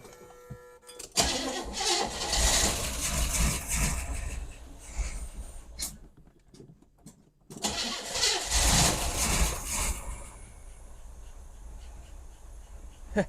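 A 1977 Pontiac Grand Prix, abandoned and being revived, runs with a rough, loud engine idle that drops out briefly midway, then rumbles back and settles into a steady idle.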